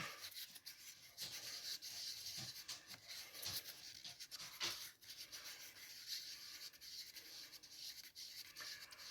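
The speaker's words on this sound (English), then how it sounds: "You get it stirred as fast as you can." A resin mixture for a Halloween coaster is stirred and scraped in a container, giving quiet, close, continuous rubbing and scratching strokes with an uneven rhythm throughout.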